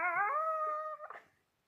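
A dog lets out a single drawn-out howl, a sustained whining tone that wavers and then breaks off into a short rough tail, heard alone and fairly faint.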